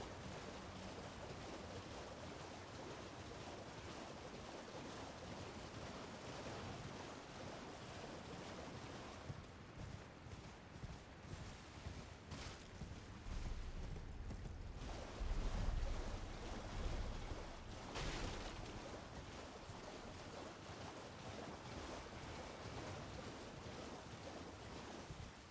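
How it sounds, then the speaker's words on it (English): Waterfall in Elden Ring, a steady broadband rushing roar of falling water that runs throughout, swelling slightly louder near the middle with no talk over it. "And that waterfall."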